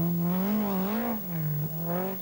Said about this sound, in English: he's really hammering the Talbot now